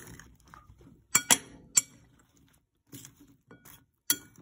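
A utensil clinking against a pan while onions are mixed into mushrooms: several sharp metallic clinks in irregular clusters, close and distinct, separated by quiet stretches of soft stirring.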